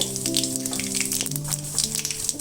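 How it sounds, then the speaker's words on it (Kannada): Mustard seeds added to hot oil for tempering a Togarikalu Uppitu crackle and splutter in a steady, close stream of tiny pops over a low, constant frying hiss, with no voices. "ಇವಾಗ ಇದಕ್ಕೆ ಸಾಸಿವೆ ಹಾಕೋತೀವಿ"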